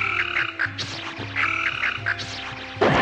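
Frogs croak in a Naruto Shippuden anime scene, a repeating, rhythmic series of throaty croaks over a steady background, with a louder burst near the end.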